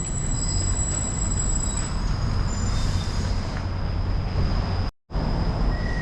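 Train passing through a Stockholm station on a cold winter day, a steady loud rumble of wheels on rails with a high steady squeal, continuous and close, with no talk.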